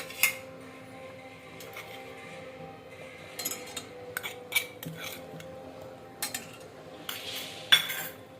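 Spoon clinking against a cooking pot while two spoonfuls of salt go into a pot of amti curry, with faint scattered metallic taps and stirring over a quiet kitchen background.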